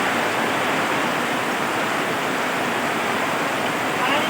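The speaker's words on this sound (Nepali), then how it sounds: "उताबाट आउँदैछ पानी, आकाशबाटै आउँदैछ" Steady heavy rain pours down in a village during the monsoon season, a dense unbroken hiss like rushing water that stays loud and constant throughout, with no voices heard.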